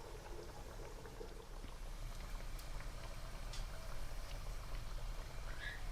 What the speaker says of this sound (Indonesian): Sudah masuk penggorengan ya ini.